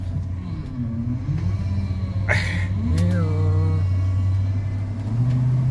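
An old Ford F-150 pickup with a 302 V8 engine runs with a steady low rumble close by, rising slightly in pitch toward the end as it revs, with a brief whine and a short rasping noise over it partway through.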